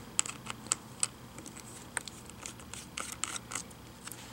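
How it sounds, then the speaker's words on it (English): A small screwdriver removes the battery screws from an HP Chromebook 14 G5, giving faint clicking and scraping ticks at an irregular pace, close and quiet. "So we remove those screws one by one."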